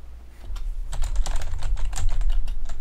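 Someone types on a computer keyboard while testing a Linux system, a quick close run of irregular key clicks that gets busier toward the middle.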